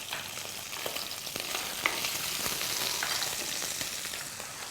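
Small fish fry in oil in a pan with a steady, close crackling sizzle and occasional sharper pops, with no talking over it.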